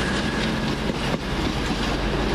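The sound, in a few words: Class 220 train passing at Warrington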